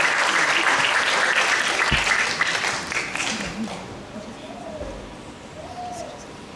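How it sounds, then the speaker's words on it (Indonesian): Audience applause after a Balinese classical pelegongan dance performance at an arts festival, a dense wash of clapping that starts loud and gradually thins out, with a few voices and scattered bird-like calls over it. "Hadirin kita sambut bersama dengan tepuk tangan yang meriah"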